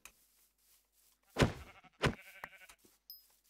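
Minecraft sheep bleat in a game world, with two loud, close bleats about half a second apart, followed by fainter rustling in-game sounds and a short high electronic tone near the end.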